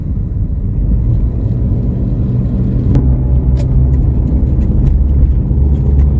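Traffic on the road near Puncak Cipanas, heard from inside a moving car stuck behind a truck. A steady, loud low engine rumble runs throughout, with a few faint clicks and knocks over the top.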